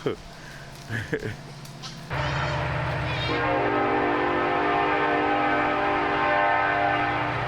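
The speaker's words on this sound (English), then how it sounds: "Well, they seem to be unaffected by the train," A train rumbles past nearby, its horn sounding in long sustained blasts after a few brief thumps and voices at the start.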